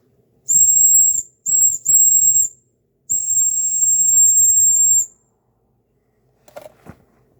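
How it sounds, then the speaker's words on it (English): A shrill steam whistle on a Mamod model steam traction engine blows in three blasts, two short and one long, loud and close, followed by a brief faint hiss and clunk. "So that's it, you've heard the whistle."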